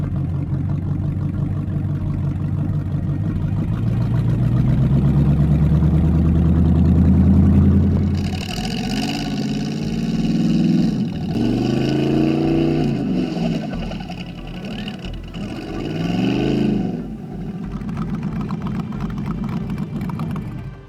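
An injected small block Chevy in a hot rod idles with a deep, loud rumble, then revs repeatedly in rising and falling swells up close, settling back to a steady idle.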